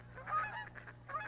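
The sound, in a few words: geese honking at a marsh wildlife refuge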